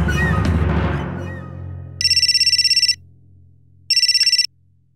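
A telephone ringtone sounds in two clear electronic bursts, the first about a second long and the second shorter, after a brief busy moment with no talk.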